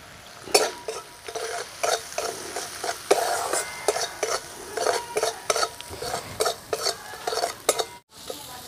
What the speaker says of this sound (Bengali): সব মশলাগুলো ভালো করে কষিয়ে নিয়েছি।